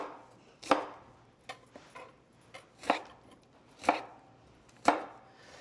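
A knife chops eggplant into small cubes on a board: five or six crisp, evenly spaced cuts with a few lighter taps between them, close and clear with no talking.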